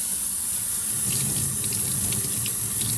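Tap water runs hard and steady into a sink, rinsing an oily item under the stream; a loud, continuous splashing rush with no voices.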